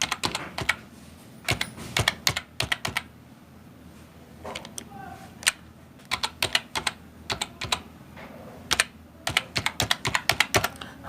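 Fingers type a login ID on a computer keyboard in quick clusters of clicking keystrokes with short pauses between bursts, close and crisp over a faint room hum.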